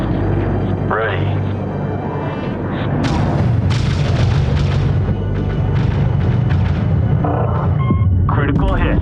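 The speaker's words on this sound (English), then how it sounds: "Critical hit. Enemy frigate destroyed." Deep booming cannon fire and rumbling explosions as a frigate is destroyed in the space strategy game Homeworld, heavy low-end blasts over a droning hum with voices talking throughout.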